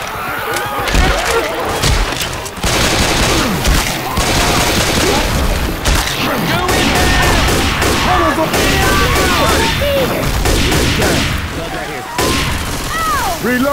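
Dense video-game gunfire in Left 4 Dead 2 on Xbox 360, a continuous fusillade of rapid shots and booming blasts with crashes mixed in, loud and close throughout, with players' voices calling out over the shooting.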